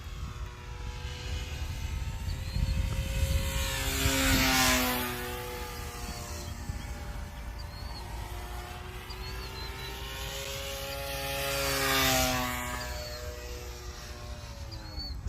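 A cheaply made Hawk King RC model airplane's small propeller motor whines through the sky, swelling twice as it passes close overhead and fading between passes, steady buzzing with no speech.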